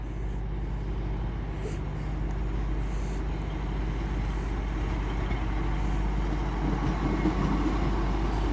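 A Lumo train passes at York station on the East Coast Main Line, giving a steady, loud low rumble that holds for several seconds with no clear break.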